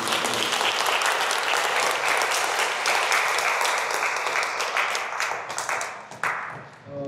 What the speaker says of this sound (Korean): 이러한 큰 불사를 하신 스님께 다시 한번 박수 부탁드립니다